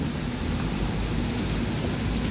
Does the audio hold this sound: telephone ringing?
no